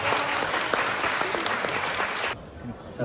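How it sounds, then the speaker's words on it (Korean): Wedding guests in a hall break into warm applause, a loud, dense clatter of many hands that carries steadily for over two seconds before cutting off abruptly into a quieter murmur. "다시 한번 뜨거운 박수 부탁드리겠습니다"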